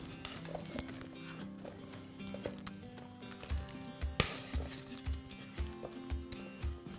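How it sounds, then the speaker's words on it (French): A pumpkin cake batter with walnuts and melted butter is stirred in a bowl, giving soft wet squishing and scraping strokes in an uneven rhythm, close and moderately quiet, with no talking. "Je mélange jusqu'à obtenir un mélange bien homogène"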